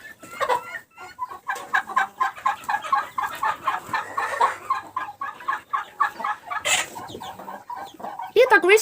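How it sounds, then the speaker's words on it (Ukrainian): Broody hens fighting, squawking and clucking in agitated bursts, with sharp shrill cries near the end, close by over a busy farmyard background. "О, квочки вже б'ються, дивіться."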